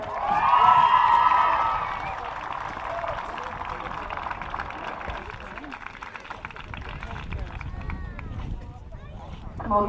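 A crowd cheers and applauds at a Junior Championship Gaelic football final, Mullaghbawn v Culloville, a loud swell of cheering at the start that fades into scattered clapping and crowd noise under someone speaking over a PA.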